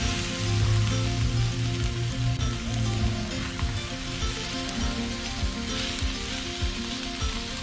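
Kangaroo steak fries in a hot pan with a steady, dense sizzle, loud and close throughout, with a low hum underneath and no talking.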